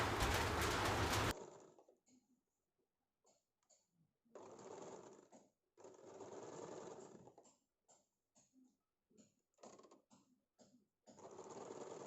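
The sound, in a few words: sewing machine stitching a blouse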